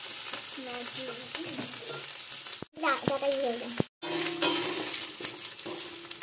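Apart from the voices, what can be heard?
frying winter vegetables for khichuri in a wok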